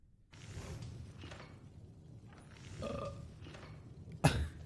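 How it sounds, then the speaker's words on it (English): Low burping from a character in the Enderal Skyrim mod, a few drawn-out belches in quiet surroundings, ending in a sharp thump. "Who's burping?"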